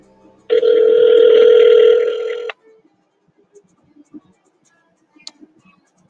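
A single loud, steady telephone tone sounds for about two seconds when a number is dialed, then gives way to near silence with faint clicks.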